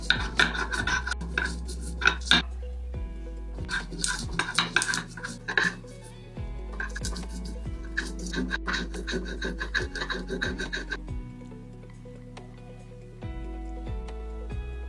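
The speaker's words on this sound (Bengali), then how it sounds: "মশলার জন্য শিলনোড়ায় আদা, কাঁচা লঙ্কা, কাজু, পোস্ত আর কিছুটা ছানা জল দিয়ে মিহি করে বেটে রাখবো" Ginger, green chilli, cashew and poppy seeds are ground with a little water on a stone shil-nora, producing repeated close scraping and rubbing strokes in an uneven rhythm, with occasional sharp clicks of stone on stone.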